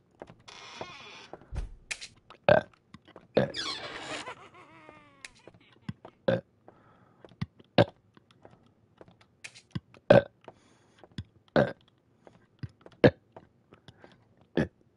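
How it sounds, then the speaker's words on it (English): A person lets out several burps in a row, spaced between sharp keyboard and mouse clicks, fairly close and with no talking. "burp 7 times in one stream"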